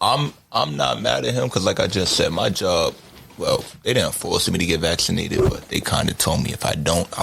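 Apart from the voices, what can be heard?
No everyday noises stand out.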